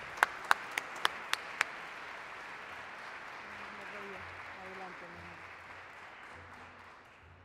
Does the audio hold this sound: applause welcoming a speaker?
yes